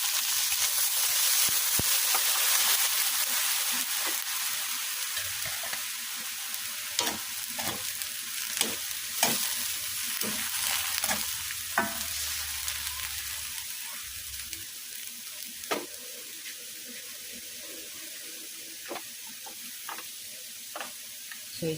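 String beans with pork fry in a pan after water is added, making a steady sizzle broken by scattered clicks and scrapes of stirring that thin out toward the end.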